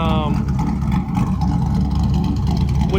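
A cammed GMC truck with a new side-exit exhaust idles close by, giving a loud, continuous low rumble with a lumpy, uneven throb.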